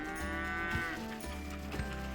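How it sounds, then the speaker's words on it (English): Cattle on a farm moo loudly and repeatedly while being fed buckets of grain from a tractor, several overlapping drawn-out calls filling the whole stretch with a steady low rumble underneath. "They're all really excited and moo a lot"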